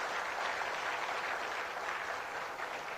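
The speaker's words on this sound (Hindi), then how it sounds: "तालियां जब बजती है तो जोरदार बजाइए।" An audience claps at a Van Mahotsav tree-planting festival ceremony in Ranchi, a soft, continuous patter of many hands heard at a distance, steady and faint for a few seconds.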